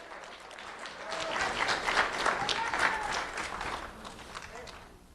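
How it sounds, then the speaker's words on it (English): A crowd at a sheriff's office student award ceremony applauds a middle school winner, the clapping swelling after the first second, staying steady, then fading near the end, with a voice speaking faintly beneath it. "Let's have a round of applause for Gail Padilla Gonzalez."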